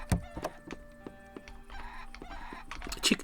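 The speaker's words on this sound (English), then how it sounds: "Stupid chicken, get out of the way." Chicken clucking in the video game Above Snakes, a few short clucks and squawks scattered over a low game ambience with occasional thunks, fairly close and moderately loud.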